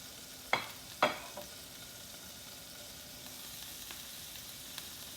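Burger patties fry in a pan with a faint, steady sizzle, broken near the start by two sharp utensil clicks or scrapes and a few soft ticks later on.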